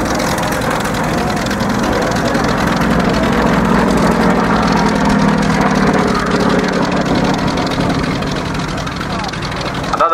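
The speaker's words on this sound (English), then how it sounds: "9-cylinder radial engine. All radial engines have a very special kind of noise to it." A Yak-52 aircraft's nine-cylinder radial engine runs steadily and loudly at an air show, a continuous rumbling drone held throughout with voices talking over it.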